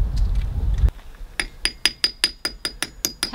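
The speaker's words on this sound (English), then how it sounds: "Tapping lightly with a hammer?" A rustling scrape, then a steady series of about ten light metallic hammer taps on an Airstream trailer's wheel-bearing dust cap, evenly spaced and close up.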